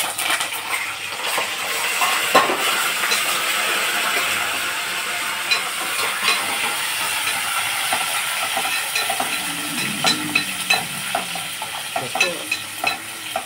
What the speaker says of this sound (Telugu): బాగా వేసుకుని పప్పు తాలింపు వేసేసుకోమండి